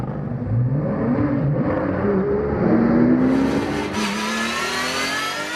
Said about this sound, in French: Ça repart pour Michel Mithieu